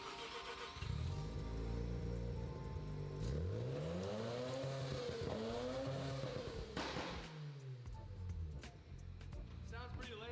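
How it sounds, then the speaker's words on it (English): A Mazda RX-7 Veilside with a 13B rotary engine starts and runs, its loud buzzing idle climbing through several revs, then dropping and rising again, while voices talk over it. "This will officially be the last time this car ever starts as a 13B."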